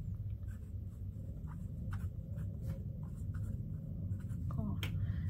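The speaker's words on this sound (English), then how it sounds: "I'm going to write it down immediately." A pen scratches on paper as a measurement for a craft-paper planner flap book page is written by hand, soft, close scribbling strokes over a steady low background hum.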